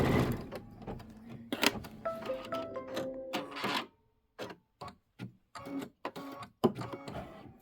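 Embroidery machine stitching a peach pumpkin-block design for a quilted pillow, giving a busy mechanical whir with rapid needle taps that stops and starts in short bursts, close and fairly loud with no talking.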